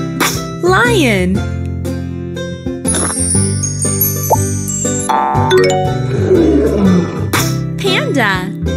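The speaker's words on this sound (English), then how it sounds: "Lion." A lion roars loudly in short bursts, set among bright chiming tones and jingly musical sounds from a toddler learning game that play throughout.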